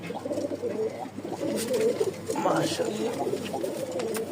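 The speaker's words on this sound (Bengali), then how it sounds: "এবার নরের উড়াধুরা ডাক দেখাই" Lahori pigeons, including a male in full breeding condition, coo in soft throaty rolling calls close by, partly masked by someone talking over them.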